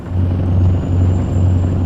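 Steady low rumble of a heavy truck slowing down in American Truck Simulator, with a continuous engine drone and a faint high whine above it, loud and unbroken throughout.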